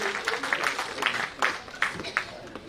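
Brief scattered hand claps at a public event welcoming a Chief Minister, a small burst of applause with irregular sharp claps over a few seconds.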